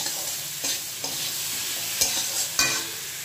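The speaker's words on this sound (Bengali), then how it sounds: "দিয়ে ভালো করে কষাতে হবে মশলাটা সহ, সুন্দর করে কষাতে হবে" Spices sautéed and stirred in a hot pan for a Bengali lunch dish, with a continuous bright sizzle broken by a few scraping strokes and clinks of the spoon against the pan, close by and without talking.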